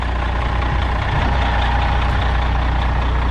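A white GMC truck's engine runs at a steady idle, a loud, close, constant low rumble with no voices over it.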